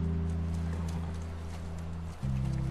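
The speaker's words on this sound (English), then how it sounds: "the idea is just this little horse riding montage." Horse hooves clop steadily during a riding sequence in the video game The Last of Us, sounding at a moderate level beneath sustained low musical tones that briefly dip before resuming.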